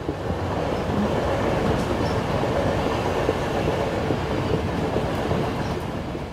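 Inside a passenger train travelling from London to Edinburgh: a steady loud rumble and rattle of wheels on track, with faint rhythmic clatter and no talk.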